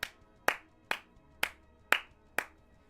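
Six slow, evenly spaced single claps ring out one by one in a quiet space, each a sharp, close slap with a short decay, with no crowd applause joining in.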